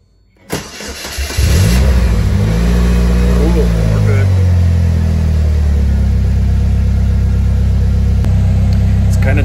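A Slingshot three-wheeled vehicle cranks briefly and fires up into a loud, steady engine rumble that settles into a close idle. A voice speaks briefly as it starts.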